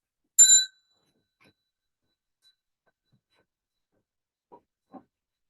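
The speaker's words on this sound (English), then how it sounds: "We'll bow to each other, first to one side and then the other when Sachi rings the bell." A single bright bell strike in a shrine practice session, a clear ringing ding that decays quickly into near silence, followed later by two faint soft knocks.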